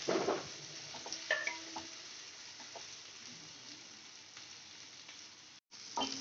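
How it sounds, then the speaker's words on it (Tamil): Onion, green chillies, crushed garlic and curry leaves sauté in a pan for a vegetable stir-fry, giving a steady sizzle with scraping stirs, loudest at the start and softer after. "தட்டி வச்சிருக்க பூண்டு, சிறிதளவு கருவேப்பிலை சேர்த்துட்டு நல்லா வதக்கி விட்டுக்குங்க."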